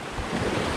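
Gusting wind by open water roars against the microphone, a dense broadband rush with low buffeting surges, continuous and close, with no voices.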